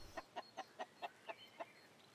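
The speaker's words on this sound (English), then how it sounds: "Something's wrong with our chicken here." A chicken clucks on the Inferno map in Counter-Strike, giving about eight short, evenly spaced clucks at a moderate distance against a quiet background.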